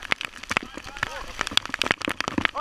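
Hail patters and ticks in quick irregular bursts on a surface nearby, with a voice speaking briefly over it.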